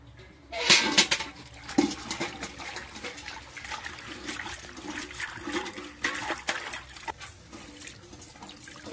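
Kulekhara leaves being washed by hand in water, with splashing, sloshing and trickling in irregular bursts, close and fairly quiet, with a louder splash near the start.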